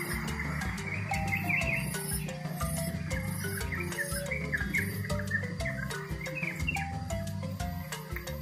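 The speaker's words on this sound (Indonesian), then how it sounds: "Burung terucukan yang berada di area sini" Yellow-vented bulbul calling outdoors with repeated bubbly chirps, moderately near, over a dense steady chorus of other birds and insects, no talking.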